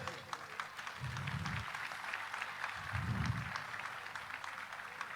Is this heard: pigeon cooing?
no